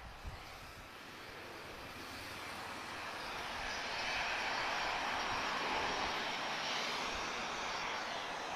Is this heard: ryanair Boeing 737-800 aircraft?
yes